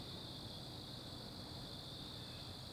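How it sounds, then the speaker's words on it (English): Crickets chirp outdoors in a faint, continuous high trill that holds steady throughout, with no talking. "Listening to the birds and the crickets"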